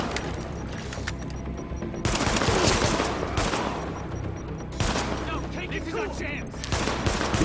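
Rapid gunfire in The Division, machine guns and a pistol fired in a firefight, loud bursts that come and go with short lulls between them.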